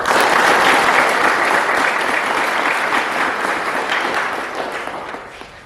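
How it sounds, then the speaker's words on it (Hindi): Dense, loud applause from an audience at a 2021 inter-battalion yoga competition in Bihar, a steady wash of many clapping hands that gradually thins and fades toward the end, with no talking. "एक बार इनके लिए जोर से तालियां बजाएं।"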